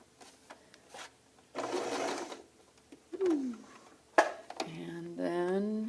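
A sewing machine stitching a welt pocket in short bursts of rapid whirring, heard up close, with a voice talking between the runs.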